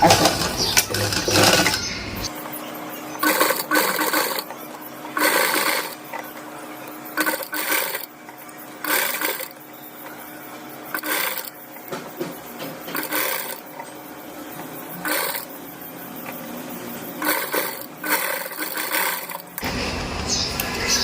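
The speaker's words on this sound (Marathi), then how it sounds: "आता याला शिलाई मारून घेते आता ही मारताना वरच्या साईडनी नाही आतल्या उलट्या साईडनी शिलाई मारून घ्यायची" A sewing machine stitches a seam on the inside of a blouse being repaired, its needle running in short rapid bursts separated by pauses, fairly close and clear.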